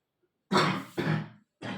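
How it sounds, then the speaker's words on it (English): Three harsh coughs in quick succession, close and loud, the last one cut short, with silence before them. "I know I am coughing"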